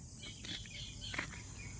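Crickets and other insects chirp in a misty mountain farm field in the rural Philippines, a faint continuous trill with a few brief bird calls mixed in over low background noise.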